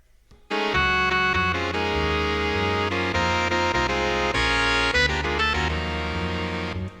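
A saxophone soli arrangement of a solo plays back loudly, full harmonized chords moving in rhythmic phrases for about six seconds after a brief quiet start.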